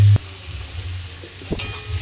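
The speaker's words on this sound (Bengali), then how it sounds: "তো পেঁয়াজটা লাল লাল করে ভাজা হোক" Onions frying in a pan at the start of a spicy meat curry, giving a brief close sizzle with a short clatter near the start and a faint watery hiss underneath.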